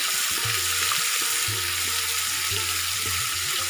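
Onion paste, a little garlic paste and a spoon of ginger paste fry in hot oil for a potato-cauliflower curry, giving a loud continuous sizzle with faint low thumps repeating about once a second.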